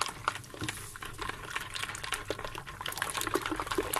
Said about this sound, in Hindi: 6 डेसीलीटर और डालना है मिल्क इसमें ना।